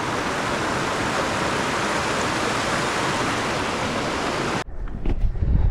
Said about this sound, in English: Getting some water on top of the waterfall.